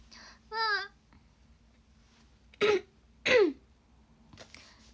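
Several short bursts of coughing and throat clearing, close and spaced apart, with a brief voiced sound at the start and quiet gaps between.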